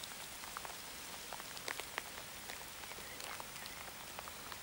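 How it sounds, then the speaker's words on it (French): Steady rain falls on a surface in hunting country at the foot of the Vercors, a soft, dense hiss with scattered drops tapping now and then, quiet and with no voices. "On n'a pas de chance, il pleut, mais bon."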